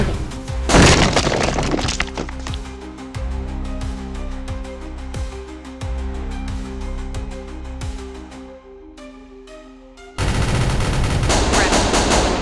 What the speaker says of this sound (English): firing at target,